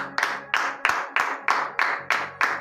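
Rhythmic clapping from a church congregation at a Friday morning prayer service in Benin, eight even, fairly sharp claps in steady time, moderately close and loud, with no speech over them.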